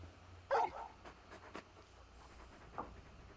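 A very large dog in the video game Final Fantasy XVI lets out a short, sharp whine, followed by a few faint, quiet whimpers and soft yips at close range.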